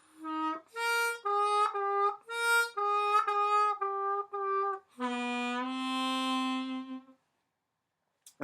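Harmonica playing line D of a melody, a slow sequence of draw and blow notes with semitone and full-step bends on the lower holes, close and clean, closing on a long held note before silence.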